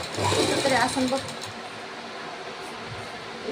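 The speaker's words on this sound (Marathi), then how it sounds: "शिलाई करून लगेच डबल दुसरी शिलाई पण मारायची" A sewing machine stitches a boat neck blouse, its close, fast mechanical whir loudest at the start and then settling into a steadier hum, with a voice talking over it.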